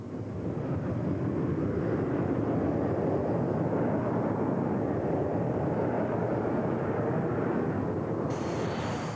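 A SEPECAT Jaguar jet flying a low-level test route near Glastonbury Tor at around 450 knots, a loud continuous engine roar that stays steady and dense throughout.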